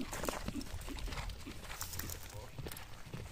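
A Quarter Horse in a new harness moves outdoors, its hooves clopping and the tack clattering steadily beneath people talking close by.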